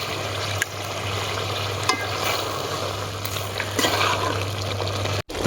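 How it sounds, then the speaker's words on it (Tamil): Eggs fry together with dried anchovies in a pan while being stirred, a continuous soft sizzle with faint bubbling over a steady low hum and occasional light scrapes, close and without speech. "அந்த முட்டையும் உடச்சி ஊற்று. 2 முட்டை போட்டோம்னா சூப்பராக இருக்கு. அப்படியே கிளறி விடு."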